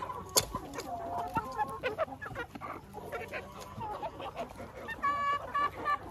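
Hens and young chickens cluck and chatter continuously nearby, a busy overlapping flock with occasional louder calls.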